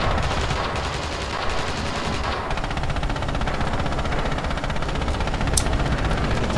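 Sustained automatic machine-gun fire from a World War II shooter, Red Orchestra 2, in multiplayer, rattling in rapid continuous bursts that fill the whole stretch with dense, loud battlefield noise and no talk.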